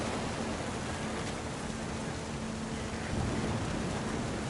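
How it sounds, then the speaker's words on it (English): Storm ambience in the video game What Remains of Edith Finch, with dense, steady rain and a low rumble of thunder swelling slightly near the end, heard without speech. "The thunder sounded much too close and full of angry power."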